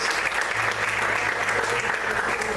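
A church congregation applauds in praise, a steady, full burst of many hands clapping for a couple of seconds, with a low hum of voices underneath.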